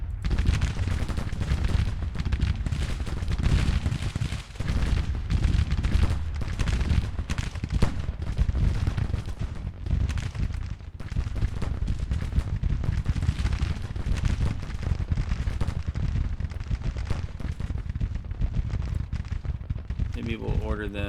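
Civil War infantry gunfire in the strategy game Grand Tactician, a dense, continuous crackle of distant massed musket volleys and rumbling battle noise going on steadily throughout.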